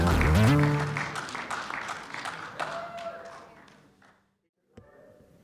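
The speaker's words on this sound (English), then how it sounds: "Thank you guys for clapping long enough for my wife to get a picture of that." Audience applause at a Fringe finale party, a loud burst of many hands clapping with cheers that fades over a few seconds, then brief silence and a small bump of sound.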